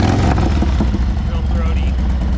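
A motorcycle engine fitted with a Feuling 2-into-1 exhaust and BA air cleaner rumbles loud and close with a deep steady throb, while people talk over it.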